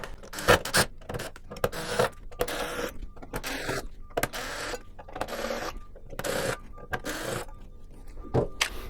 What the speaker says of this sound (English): let's go ahead and get all of the screws that are connecting this metal plate to the chassis